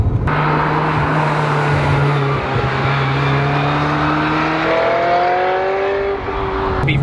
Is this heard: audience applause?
no